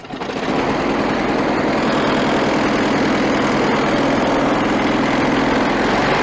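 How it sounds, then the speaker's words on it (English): A small Briggs & Stratton Quantum lawn mower engine sputters to life and settles into a steady, buzzing idle, loud and near, running continuously without pause. "and then start engine."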